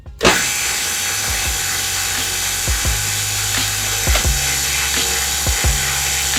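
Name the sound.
mandrel bender bending 1.5 inch 304L stainless steel tube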